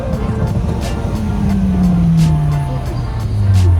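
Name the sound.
Opel Corsa engine revving at a car meet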